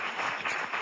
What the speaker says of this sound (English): Give the girls and Ben a round of applause